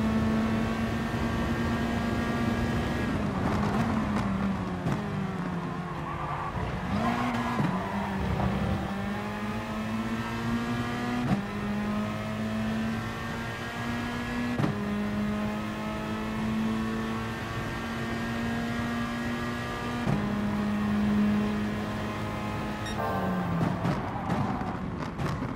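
Race cars engines drone in a three-abreast drag race start in GT Sport, a steady loud whining roar with gear shifts and shifting pitch running continuously, no talk.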